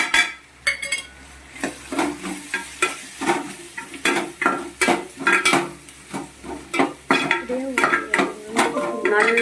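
Spice powders, among them chicken and mutton masala, pepper, cumin, fennel, chilli and turmeric, being sautéed in oil in a pan, with repeated clanking and scraping of a spoon against metal over a steady soft sizzle.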